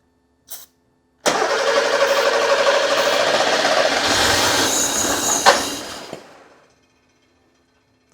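A Porsche 911 Carrera 3.2L engine with a fuel problem, sprayed with starting fluid: a brief click, then it cranks, catches and runs roughly and loudly for about five seconds before sputtering out and fading.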